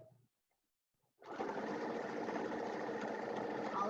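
A sewing machine stitches the second seam of a homemade fabric face mask, starting after a brief quiet pause and then running steadily and close up with an even, buzzing whir.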